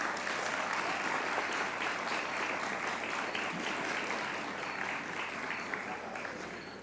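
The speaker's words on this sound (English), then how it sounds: "if our graduates would please clap for their families, significant others, spouses," Graduates at a university commencement ceremony clap for their families, filling the space with dense, sustained applause that stays steady throughout and eases slightly toward the end.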